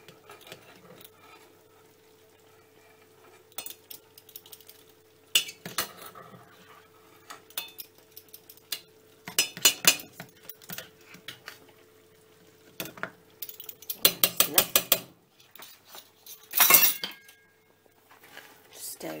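Spoon clinking and scraping against a bowl as natural yoghurt is stirred into a vegetarian shepherd's pie mixture, in irregular close bursts with quieter gaps.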